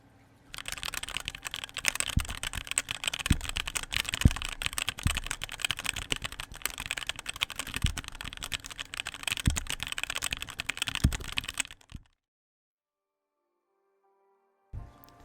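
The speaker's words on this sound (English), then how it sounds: "Since the sound of the keys clacking seems to be a big thing in the mechanical keyboard community" Close-up, rapid clacking of mechanical keys on a HyperX Alloy Origins keyboard, typed continuously for several seconds, then stopping abruptly into silence.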